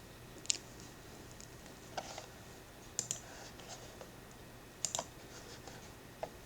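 Scattered, quiet clicks of computer keyboard keys come in small clusters with pauses between them, a Ctrl plus A shortcut followed by delete, against a faint steady background hum.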